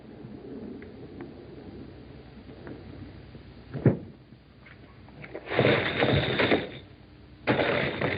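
A cloth bag of iron washers passed off as gold coins is shaken and handled, giving a few short metallic clinks and rattles in quick bursts near at hand, with no voices.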